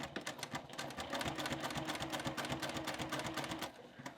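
A sewing machine runs fast and close, stitching forward and then reversing to back-stitch through quilt binding, a dense even chatter of needle strokes with no talk over it.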